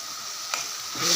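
Steady sizzling, bubbling hiss of tamarind water coming to a boil in a pan, with a brief clink midway and the bubbling growing slightly louder at the end.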